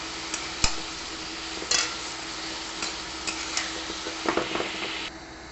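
Cut vegetables with salt and turmeric cook dry in a pan, a soft steady sizzle broken by a few sharp spatula scrapes and taps against the pan, close by with no talking.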